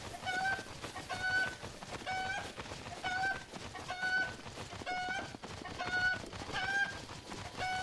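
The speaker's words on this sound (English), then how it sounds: "This chicken's probably very annoying to listen to." A chicken in the video game Breath of the Wild clucks in steady, repeated calls, about every half second, over a soft outdoor background with no talking.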